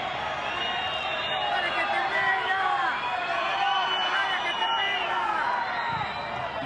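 Crowd at a football stadium during an Argentina versus Bolivia under-age South American championship match, a dense continuous roar and babble of many voices that stays steady at a fairly loud, distant level.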